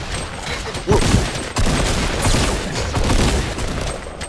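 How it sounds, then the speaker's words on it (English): Video game battle with a rapid fusillade of gunfire and booming explosions, sharp blasts near one second and again near one and a half seconds over continuous crackling shots. "What's all these explosions?"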